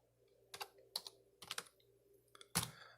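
Quiet computer keyboard typing in a few short, separate bursts of keystrokes with gaps between, ending on a sharper, louder key press.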